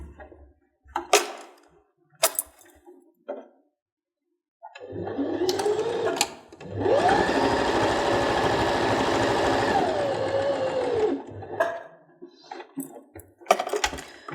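A sewing machine stitches pinned quilt blocks, a few sharp clicks and handling taps before and after a steady motor hum that runs for several seconds in the middle.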